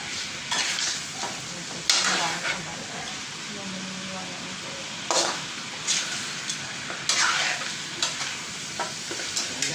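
Food fries in a pan while being stirred: a continuous close sizzle with repeated scraping bursts from the utensil, and people talking intermittently over it.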